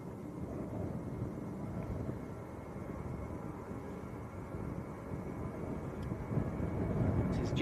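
A Jet2 passenger jet bound for Dalaman, Turkey, rumbles past at Manchester Airport, a steady broad roar with wind buffeting that swells slightly toward the end, no voices over it.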